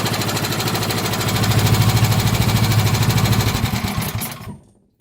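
A Tillotson 212E small engine, converted and fitted with a new throttle linkage, runs loudly with a fast, even chugging beat, steady and close, before cutting off and falling silent.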